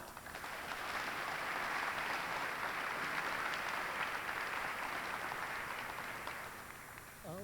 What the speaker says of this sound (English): Let us please give the panelists a round of applause.